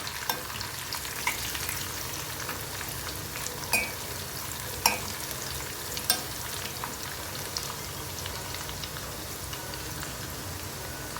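Tempering for Marathi-style phodniche varan crackles and sizzles in hot oil with garlic browning, a steady soft frying hiss broken by a few sharp spits and pops, close and fairly quiet with no talking.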